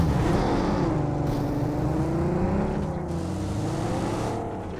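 A vehicle driven in the BGMI mobile battle royale game, its engine a loud, steady drone with shifting pitch that runs unbroken and close throughout, with no talk over it.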